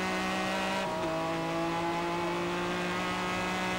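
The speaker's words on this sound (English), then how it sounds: "Both engines screaming along." Racing car engines, including a Ferrari 246S Dino at Goodwood Revival, drone at a high sustained pitch, one shifting tone partway through, loud and continuous.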